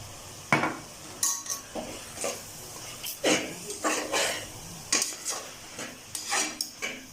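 Spices, including homemade garam masala and fennel powder, stirred in hot oil in a pan: a spoon repeatedly scrapes and clinks against the metal in uneven strokes over a faint sizzle, close and moderately loud.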